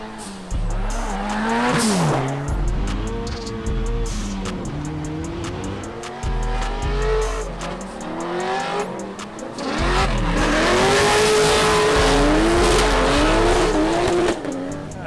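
Turbocharged Porsche drift car on track, engine revving hard and rising in pitch with repeated tire squeal and skidding, loud and close through the whole run.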